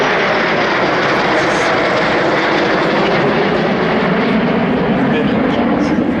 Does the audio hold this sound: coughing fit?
no